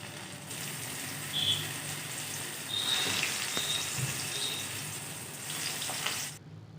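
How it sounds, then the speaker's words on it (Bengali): Pieces of boiled gram-flour (besan) dough frying in hot oil for a vegetarian dish, giving a soft, continuous sizzle with faint crackles that stays fairly quiet and even, then cuts off abruptly near the end. "এখন তেলে ভেজে নিব সবগুলো পিস"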